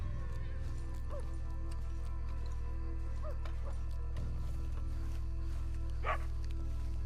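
A dog barks in Red Dead Redemption 2, a few short yips spread across a steady low ambient bed, with one sharper bark near the end, fairly distant and mixed under game sound.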